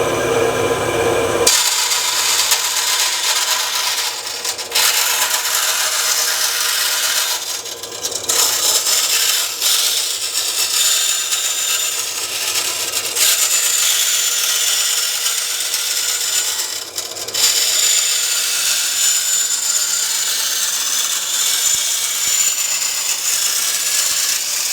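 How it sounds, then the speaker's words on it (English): Bandsaw ripping a 5/32 strip off aluminium angle with a small jig, for RV-7A tail surfaces: a loud, continuous high-pitched cutting whine that holds steady for the whole stretch, with brief dips in load. "take them over to the bandsaw, I suppose, with some sort of little jig, and rip off a strip, a 5/32 strip"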